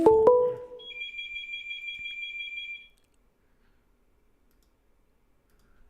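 Prison collect-call line connecting: a couple of sharp clicks, then a thin two-tone electronic beep held for about two seconds, followed by silence and a final click.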